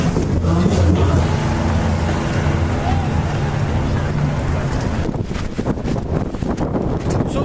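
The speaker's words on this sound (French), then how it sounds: "Il y a un vent incroyable, un vent à 45 km/h." Strong 45 km/h wind on the Verrazzano Bridge during the New York Marathon roars steadily across the microphone as loud broadband buffeting, easing slightly near the end, with faint crowd sounds underneath.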